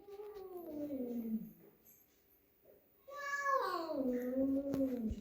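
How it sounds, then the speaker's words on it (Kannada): Tiny newborn kittens meow in high, wavering cries: one drawn-out call, a brief quiet pause, then several more insistent meows close by. "ಇವಾಗ ಇಲ್ಲಿ ಬೆಕ್ಕಿನ ಮರಿಗಳವೆ"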